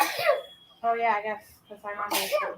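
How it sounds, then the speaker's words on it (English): A person sneezes sharply at the start, followed by brief talk, with another breathy burst near the end, close and fairly quiet. "she's sneezing"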